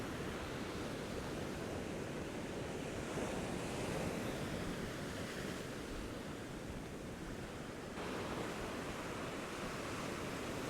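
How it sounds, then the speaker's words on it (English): Ocean waves breaking along a rocky shore, a constant loud roar of surf and wind that swells and eases slightly over the span, with no voices. "here comes a bigger wave"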